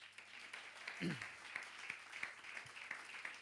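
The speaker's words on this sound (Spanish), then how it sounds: "Dele un aplauso a Jesús." Faint applause from a church congregation for Jesus during a sermon, soft scattered clapping in a quiet room with a voice briefly heard near the start.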